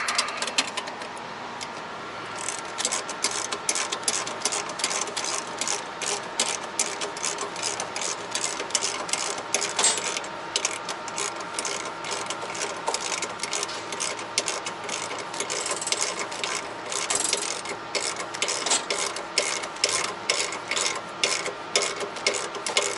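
A chrome part on a truck is tightened with a rapid, steady ratcheting clatter, a long close run of fast mechanical clicks with brief pauses and no talking.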